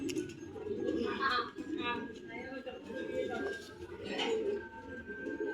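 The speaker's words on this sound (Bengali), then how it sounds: "দ্বিতীয় নাম্বার কবুতর। ওর চোখটা দেখেন ভাই" Pigeons cooing in a loft, soft repeated low coos heard close and under someone talking throughout.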